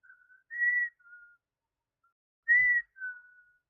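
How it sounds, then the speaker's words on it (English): One person whistles the Wheel of Fortune theme, producing short, clear, airy phrases of the melody in two bursts with a pause between them, alone against silence. "I don't want YouTube to copyright if I'm whistling the Wheel of Fortune song."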